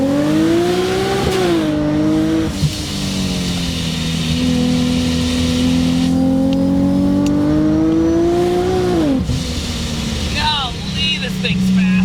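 A supercharged 560 hp Infiniti G37 pulls hard at full throttle, its engine note climbing steadily through the gears with brief dips at each shift, loud and close, with a voice speaking briefly near the end.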